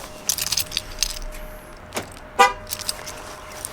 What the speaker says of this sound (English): I should lock my car.